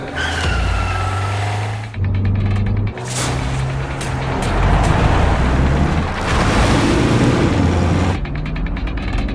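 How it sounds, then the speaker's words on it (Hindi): A car driven in traffic while following a taxi, a loud steady engine hum with mechanical rattles and creaks from the vehicle, close and continuous. "राज ने अनन्या की कार निकाली और सबके साथ अभिनव जिस टैक्सी में था उसे फॉलो करने लगा।"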